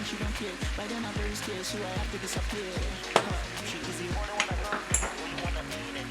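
Yoruba vegetable soup with shell-on seafood being stirred in a pot, with irregular wet clicks and light sizzling under a steady bubbling hum, close and fairly quiet.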